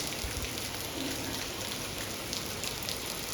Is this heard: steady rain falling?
yes